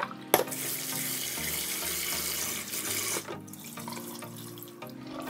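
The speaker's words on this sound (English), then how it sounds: "Wash 1 cup of rice in running water about 3 times." Steady running water pours from a tap as rice is washed, a continuous close splashing hiss with soft music playing underneath.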